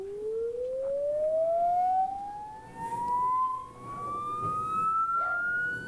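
A salt-sprinkled steel Chladni plate is driven by a pure electronic tone that glides smoothly upward toward the plate's resonant frequency. The pitch rises steadily and loudly with faint higher overtones and a soft background rumble, and no voices are heard.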